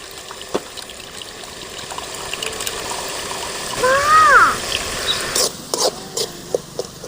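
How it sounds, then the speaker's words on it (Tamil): Water trickles and pours briefly as cooked lentil water drains from a pot, with faint clatters of utensils and a short burst of liquid draining in the middle. "பருப்பு தண்ணி வடிச்சிக்கலாம்"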